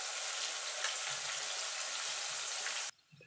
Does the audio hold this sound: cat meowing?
no